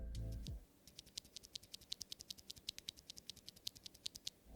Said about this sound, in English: This is a 5-pin linear switch with 85 grams spring stock and is fully black as per the namesake. Here is the stock sound test.